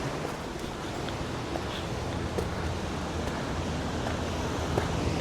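A raging waterfall roars in a canyon along Mill Creek in the Angeles National Forest: a steady, dense rush of water that holds at an even loudness throughout, with no voices.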